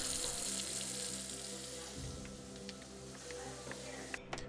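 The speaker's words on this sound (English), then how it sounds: "turn on the water, check for leaks" A kitchen sink faucet runs water into the basin during a garbage disposal installation, a steady faint hiss and splash with a few small clinks near the end.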